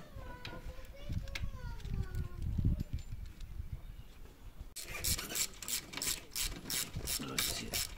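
Close-up ratchet wrench tightening the shock absorber bolts on a 125 cc bobber motorcycle, rapid rhythmic clicking bursts in the second half, with a voice talking and some rubbing and handling noise earlier.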